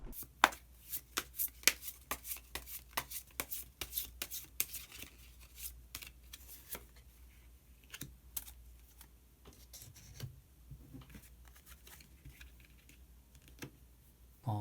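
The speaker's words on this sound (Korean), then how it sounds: "히든 카드 한 장 더 뽑아보도록 하겠습니다" Tarot cards are shuffled and drawn, producing rapid close riffling and flicking clicks that thin out into sparser taps and slides.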